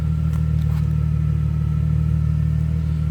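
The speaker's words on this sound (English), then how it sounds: "Hear it run. Dual exhaust." A 2000 Plymouth Prowler's engine idles with a deep, steady, throbbing dual exhaust rumble, loud and close, unchanging throughout.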